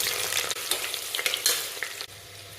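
Sliced onion fries with spices in a pan of oil and ghee, hissing and crackling up close while a spoon stirs and scrapes it now and then.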